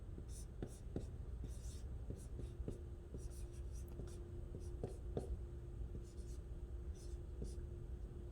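Marker or pen writing out a single replacement chemical equation on a board, with steady repeated scratchy strokes and taps under a low room hum.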